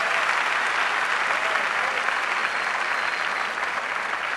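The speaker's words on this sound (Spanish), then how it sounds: "Gloria al Señor, démosle palmas fuertes a Él." A church congregation claps loudly and steadily during a Spanish-language worship service, a dense unbroken wash of palms that stays at full strength throughout, with no voices standing out above it.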